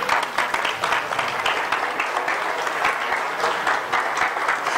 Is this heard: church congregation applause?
yes